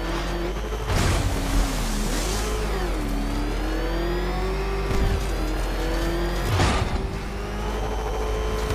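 The Batmobile's engine in Batman Arkham Knight revs and accelerates in a steady rising and falling whine, with a few sharp surges and swooshes along the way, loud and without speech.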